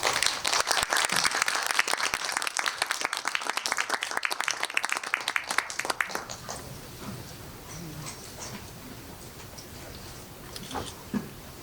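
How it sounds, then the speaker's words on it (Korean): A film-screening audience applauds a director coming out for a Q&A session; dense, lively clapping fills the first six seconds, then breaks off into a quiet room with scattered small noises. "박영희 감독님 나오시면 큰 박수를 한번 맞아주시면 부탁드리겠습니다"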